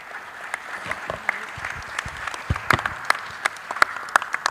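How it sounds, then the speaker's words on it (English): An audience at a speakers' session applauds the day's presenters with scattered, uneven claps that come in sharp individual bursts rather than a dense roar, at moderate level. "I'd like to ask the round of applause to all of the speakers today"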